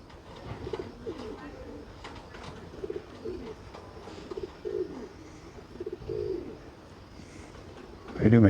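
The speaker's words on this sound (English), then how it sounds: "the pigeons are pissed" Agitated pigeons coo in low, throaty bursts that repeat irregularly inside the quiet ruins of an old ghost town, moderately close, with a sudden loud clatter at the very end.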